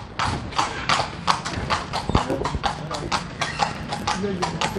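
Close, crisp clip-clopping of a carriage horse's hooves keeps a brisk, regular beat on the streets of Granada, Nicaragua, with a person talking faintly underneath.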